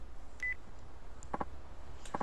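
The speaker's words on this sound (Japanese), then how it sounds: "おう、電話。" A mobile phone rings in the video game Yakuza 3, giving short electronic beeps and tones over a quiet background.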